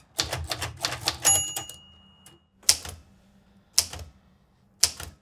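Typing on a manual typewriter: a rapid burst of key strikes at close range, followed by a pause and then three separate, sharp clacks spaced about a second apart.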